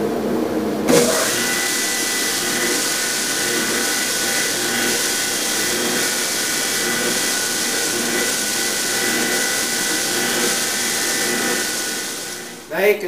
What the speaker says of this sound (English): Turn on dust collection.